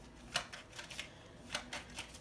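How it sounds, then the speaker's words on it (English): Oracle cards are shuffled by hand, a quiet run of soft riffling flutters and light slaps in irregular bursts, close and faint with no talking. "I started shuffling."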